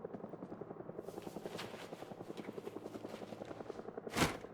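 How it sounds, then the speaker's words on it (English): A helicopter in the video game Project Zomboid flies over with a rhythmic rotor thump that stays steady and fairly faint, with a short louder burst near the end. "I hear the helicopter."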